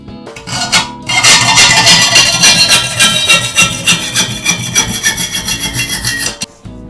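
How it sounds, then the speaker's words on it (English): A junior hacksaw cuts through a block of wood in quick, even back-and-forth strokes, loud and close, with a rasping edge that fades as the cut finishes. "cut off the bottom end of that just by about 10 mils or so. Junior hacksaw."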